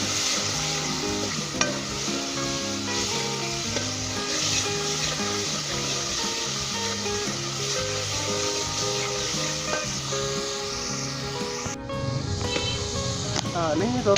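Masala with tomato and green chili frying for nargisi kofta curry, a constant sizzle and stirring scrape under prominent background music, with a brief clatter near the end.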